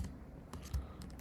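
Keys clatter on a computer keyboard as Python code is typed, a few quick faint clicks and taps close by in a quiet room, with no talking.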